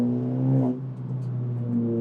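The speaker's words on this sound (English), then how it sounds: "Nothing to complain about with the exhaust tone." A Honda Civic Type R (FK8) exhaust hums steadily as it cruises around town, a low throaty tone that dips slightly in pitch partway through.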